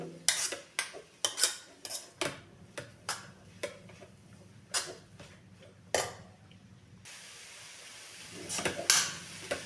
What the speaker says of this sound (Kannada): ಈ ಥರ ಎಲ್ಲ ಚೆನ್ನಾಗಿ ಸ್ವಲ್ಪ ಹೊತ್ತು ಹುರ್ಕೊಳ್ಳಿ